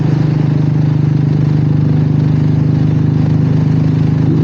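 A steady, loud motorcycle exhaust drone with a deep low hum that holds constant and close throughout, recorded from a microphone clipped to the back of a saddlebag while riding.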